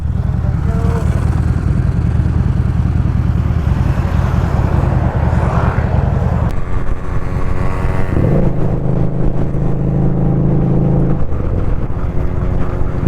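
A motorbike is ridden on a long road trip across Tamil Nadu. The engine drones loud and close with a constant throaty rumble, shifting tone partway through as it seems to change speed, and no talking is heard.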